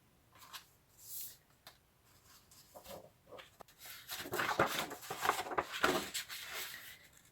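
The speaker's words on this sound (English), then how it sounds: "First, you need to cut a strip of sandpaper." A strip of sandpaper is cut at a jeweler's bench for making flex shaft polishing bits. Soft, close scraping and snipping strokes come in short irregular bursts, quiet and without talk.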